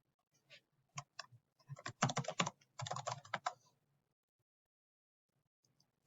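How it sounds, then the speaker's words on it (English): Quick bursts of keystrokes on a computer keyboard as a password goes in, clustered clicks close up with short pauses, ending in a lone final tap. "I want you to type in your password."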